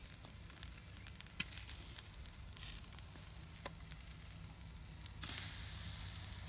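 Soft sizzling with scattered pops and crackles of chicken clamped in bamboo, grilling over charcoal, steady and fairly quiet, with no voices.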